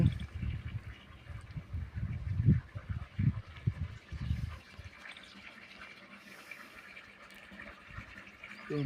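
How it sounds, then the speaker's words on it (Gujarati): Narmada canal water flows through the Bhadar river near a small check dam in a Gujarat village, a steady rushing murmur with stronger gushing surges early on, easing to a quieter continuous flow. "જો આ ભાદર નદીની અંદર નર્મદા નદીનું પાણી ચાલુ છે"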